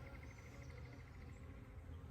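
A swarm of honeybees buzzes faintly, a thin, steady droning hum that continues without a break through the whole stretch.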